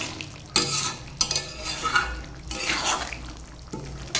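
A thick pumpkin and chana dal gravy stirred in a pan, with a few broad scraping strokes of the spoon over a soft bubbling sizzle, close by.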